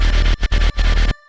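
Dry distorted Serum 2 synth bass for bass music, tremolo bypassed, loud and dense with a couple of short rhythmic gaps, then stopping abruptly and leaving a faint tail.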